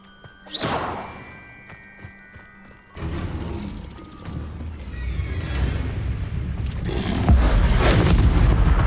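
Incendio fire spell cast in Hogwarts Legacy: a sharp whoosh and blast near the start, then a sustained roaring, crackling rush of flame and impacts building to a loud, dense burst at the end, with game effects layered throughout.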